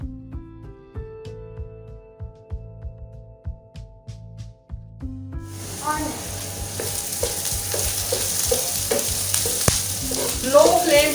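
Sliced onions dropped into leftover hot oil for achari okra begin sizzling loudly midway, a bright crackling fry with stirring clatter that builds and persists, following quieter kitchen tapping and clinks beforehand.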